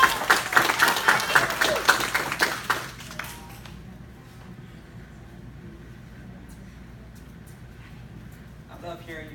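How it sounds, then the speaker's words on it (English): Audience applause and cheering at a karate belt ceremony, a few seconds of loud clapping and voices that fade out, leaving quiet room noise before a voice speaks near the end. "I love hearing you cheer like that."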